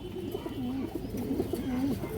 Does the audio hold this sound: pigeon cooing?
yes